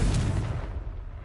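A Confringo fire spell in Hogwarts Legacy explodes with a loud, blasting burst that rumbles and fades out over about a second.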